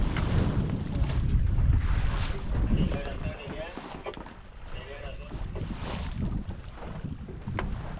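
Steady wind rushes and buffets around a fishing boat on the open deep sea off Mumbai, with low rumbling noise throughout and brief voices in the background.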